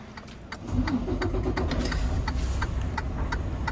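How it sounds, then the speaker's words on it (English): A semi truck idles and creeps while sliding the trailer's tandem axle back on an intermodal container chassis, a steady low engine rumble under a regular ticking or clicking. "I have to push my tires all the way back in order for that chassis to sit flat"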